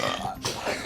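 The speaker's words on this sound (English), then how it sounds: "also I have a burp coming" A single short, low burp, close and fairly loud, lasting under a second.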